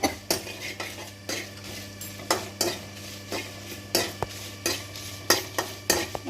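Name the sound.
flax seeds lightly frying and stirred in pan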